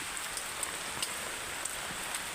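Steady soft rainfall outdoors near farm fields, a faint even hiss with light patter of drops and no voices.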